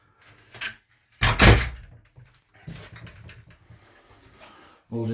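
Wooden cabin doors on a small sailboat being restored are opened and shut, giving a sharp bang, a few softer knocks and thuds, and a final clunk, close and otherwise quiet.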